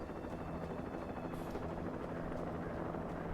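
Steady helicopter rotor drone in the video game Alan Wake, a continuous whirring thrum held at even loudness throughout with no voices over it.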